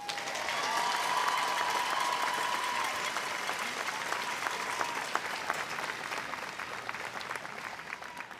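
A large crowd applauds the graduates at a university commencement ceremony, sustained, even clapping that swells and then slowly thins, heard from within the audience with a faint voice early on.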